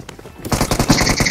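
Rapid gunfire from a shotgun in the mobile battle royale game BGMI at a military base, a burst of loud, closely spaced shots starting partway in and continuing to the end.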